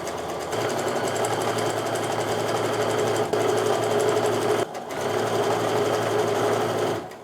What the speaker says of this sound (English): I'm just going to repeat as I go down this strip, sewing my 1/4 inch seams